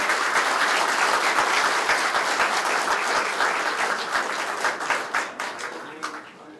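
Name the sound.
applause at a party meeting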